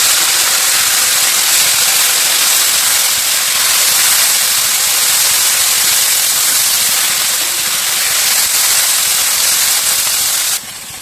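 Chopped onions and broad beans (chikkudukaya) fry in a pan with a loud, steady, hissing sizzle that runs almost the whole time and drops off sharply at the very end. No voices are heard.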